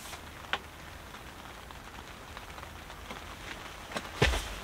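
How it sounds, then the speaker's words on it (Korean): Rain patters steadily on a seaside campsite shelter, with soft scattered drops and a sharper, louder tap near the end; quiet and close, with no talking. "근데 비가 올지 몰랐는데 계속 비가 내려서 우비도 없고 나가기가 좀 그러네"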